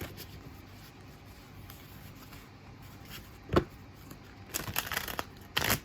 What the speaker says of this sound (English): 2 more shuffles and then we'll go ahead and split the decks.